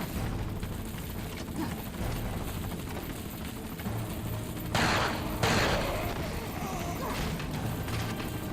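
Gunfire in Resident Evil 4 on PS4 while shooting a turret enemy: repeated shots and booms over continuous dense game noise, with a couple of louder blasts midway.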